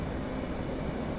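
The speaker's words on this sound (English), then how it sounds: "Oh, it's an airplane." Airplane engine in the flight-simulator game DCS, a steady broadband drone with strong low rumble, continuous and fairly loud throughout without any talking.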